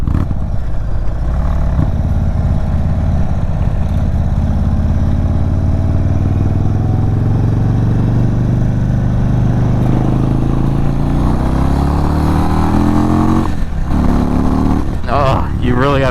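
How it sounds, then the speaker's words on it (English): A Stage 2 2022 Indian Chief Dark Horse motorcycle engine rumbles and revs while riding, a loud low throb rising and falling in pitch through gear changes, with wind noise and a rider talking over it. "See if we can rev match it here."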